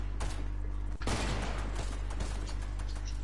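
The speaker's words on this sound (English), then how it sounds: "I've got the trashiest shotgun in the game." Shotgun blast in a battle video game, a double-barrel weapon: one sharp loud report with a burst of noise and decaying rumble, over a steady low game hum.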